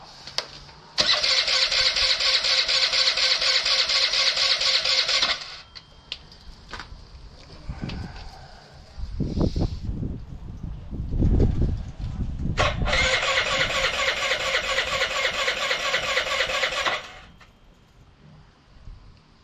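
A vacuum-petcock carbureted engine cranks twice in long, loud bursts of whirring starter noise while fuel is drawn to the carburetor, separated by a stretch of low rumbling and clunks.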